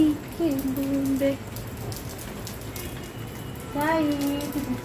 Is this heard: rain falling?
yes